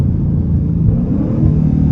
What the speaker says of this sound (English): Let me try some of these rev match downshifts.